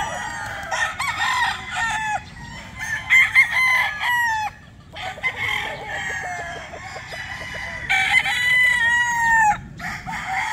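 Roosters crow repeatedly and hens cluck at a small backyard poultry farm just after rain, several overlapping calls at close to moderate distance, loud and continuous with no talking.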